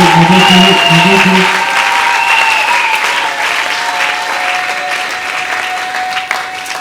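A church congregation breaks into sustained, loud applause acclaiming the Lord, with voices rising through the clapping and a faint musical tone underneath as it slowly eases off.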